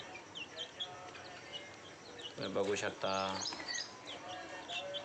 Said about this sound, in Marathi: हे आहेत आपल्या आधीच्या बॅचमधील युवर गावरान पक्षी